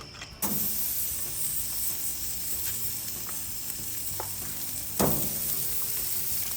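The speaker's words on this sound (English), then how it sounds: "we want to get a great sear on those New York strips" New York strip steaks sear on the oiled flat top of a Blaze LTE gas grill, giving a loud, continuous close sizzle with a few sharp spits and clanks from handling.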